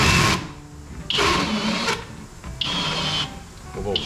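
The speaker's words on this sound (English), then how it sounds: "I just have a little deburring tool." A small hand deburring tool chamfers the top edge of a freshly installed valve guide in a small-block Chrysler iron cylinder head, giving several close, bright scraping strokes in short bursts with pauses between.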